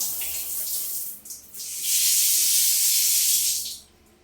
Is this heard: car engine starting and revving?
no